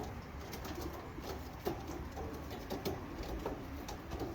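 Young racing homer pigeons, about forty days old, coo in a cage, giving soft low murmurs with a few brief louder calls over steady background noise.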